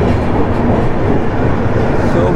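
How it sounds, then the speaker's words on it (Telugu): A Telangana Express train departs with a loud, steady rumble and clatter of rolling wagons, close and continuous, with a voice faintly mixed in. "మన ట్రైన్ అయితే డిపార్చర్ అయింది"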